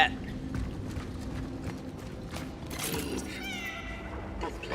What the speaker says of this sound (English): Cat, I hear a cat.